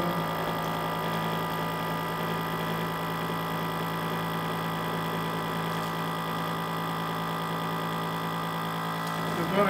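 A vacuum sealer pump running steadily while sealing an UMAI dry-age bag holding New York strip steaks, a continuous close mechanical hum and drone with no break.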